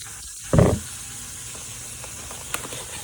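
Garlic cloves drop into hot butter beside a steak, setting off a short loud hiss and sizzle that quickly settles into a faint steady crackle, close up and with no voices.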